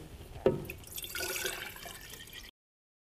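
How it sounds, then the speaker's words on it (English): Water pours into a glass vase jar, starting with a brief splash and then a steady trickling gurgle that stops abruptly. "go ahead and add your water"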